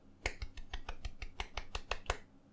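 A short patter of light hand claps, about a dozen quick, evenly spaced claps from a small group, close and fairly quiet.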